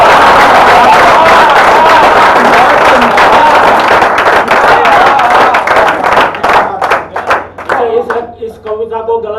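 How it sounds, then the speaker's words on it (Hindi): Audience clapping at a Hindi comic poetry gathering (hasya kavi sammelan): loud, dense applause from a crowd that keeps going, then thins out into scattered separate claps, with voices underneath. "और अगली पंक्ति पर आप सभी की तालियां चाहता हूं"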